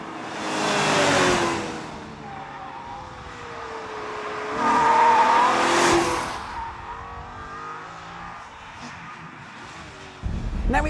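An exotic Italian Maserati sports car engine swells in two strong surges of revving and drive, each rising and fading, with a softer engine note between them and a sharp burst near the end.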